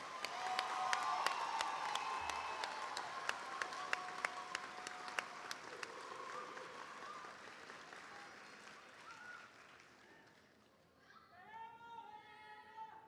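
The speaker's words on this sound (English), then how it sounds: "can we all please give a round of applause to our senior families?" Graduation audience at a school of the arts ceremony applauding senior families, a broad wash of clapping from a large crowd with some cheers, fading toward the end as a few voices speak.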